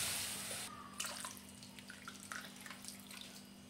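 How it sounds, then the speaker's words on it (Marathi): Water is poured into a pan of spices being sautéed for sweet Hyderabadi ghode, a faint splashing pour starting abruptly and trailing into sporadic trickles and drips, close by and quiet, with no speech. "बघा, आता आपल्याला पाणी सोडून घ्यायचं आहे।"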